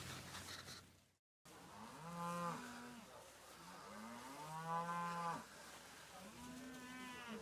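Devon cattle moo repeatedly at an outdoor breed congress, several loud, drawn-out lowing calls close by following one another with brief gaps, with no talk.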